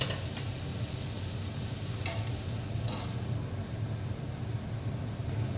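Potato and pumpkin curry stirred in a pan, a steady low simmering bubble under occasional scraping, with two brief bright clinks of the spoon against the pan, close and moderately loud, no talking.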